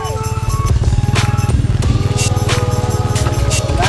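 A motorcycle engine runs close and loud, a steady rapid putter with clattering rattles throughout, passing along a village road with no talk over it.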